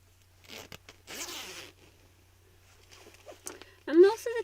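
A coat zipper is pulled along its track in a couple of quick rasping runs, close up and fairly soft, followed by a short burst of voice.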